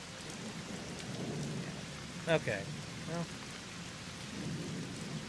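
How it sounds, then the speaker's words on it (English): Steady rain and rumbling thunder from the video game Splinter Cell, a constant wash of rainfall with a couple of brief thunder cracks and rumbles, while a person says a word briefly. "this rain is really obscuring my vision"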